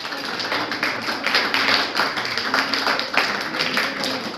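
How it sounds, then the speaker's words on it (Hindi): A crowd of audience members claps steadily at a community gathering, a dense continuous wash of hand claps, loud and close, with no talk over it. "ताली बजती रहे"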